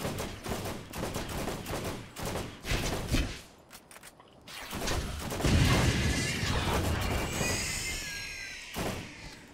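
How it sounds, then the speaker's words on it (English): Bursts of rapid gunfire and heavy impacts in the video game Borderlands, repeated volleys and thuds dense and loud throughout, briefly dipping before a sustained louder barrage. "Why'd you shoot through them?"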